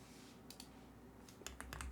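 Faint, sparse clicks of keys being tapped on a computer keyboard, in a few quick bursts over about two seconds, near and quiet with no talking.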